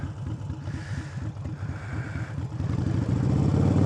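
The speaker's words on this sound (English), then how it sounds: "My engine's getting hot." A motorcycle engine idles and runs with a steady low pulsing during slow parking lot practice, the engine hot, its rumble growing louder and rougher toward the end, with no voices.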